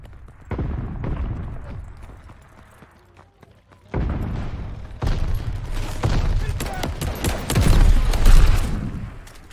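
Goliath detonation in Call of Duty: Vanguard multiplayer, a heavy boom amid rattling gunfire bursts, with the fighting swelling louder toward the end under faint voice callouts.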